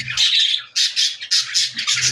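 Budgerigars squawk nearby in a run of four or five loud, harsh bursts separated by short gaps, with no talking.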